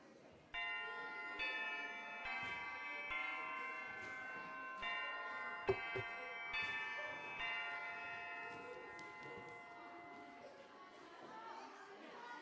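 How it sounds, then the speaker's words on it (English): In a video game, a school lunch bell rings as a bright, layered electronic chime, a sequence of sustained tones lasting several seconds over a faint background murmur. "so that's the lunch bell, isn't it?"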